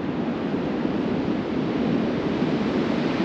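Waves roll onto a beach in Coffin Bay National Park, a steady broadband wash of surf mixed with some wind rumble on the microphone, continuous and fairly loud.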